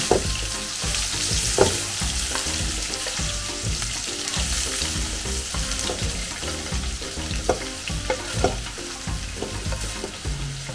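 Sausage added to a hot pan for a baked macaroni dish, frying with a busy, loud sizzle and repeated clattering stirs and scrapes across the whole stretch.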